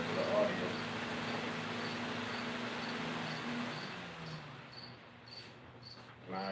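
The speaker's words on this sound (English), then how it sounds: "Now everybody get to hear the crickets." Crickets chirp in steady, repeated pulses over a low background hum, easing off and thinning out near the end.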